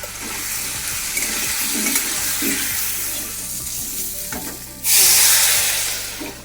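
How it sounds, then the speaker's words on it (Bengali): Potatoes and onions frying together in a pan as spices, salt and turmeric go in, a steady close sizzle with stirring scrapes, then a sudden louder burst of hiss near the end as something wet hits the hot pan. "আজকে আলু আর পেঁয়াজটা একসঙ্গে ভেজে নিলাম আর এবার যে মশলাটা করেছি সেই মশলাটা দিয়ে দিচ্ছি"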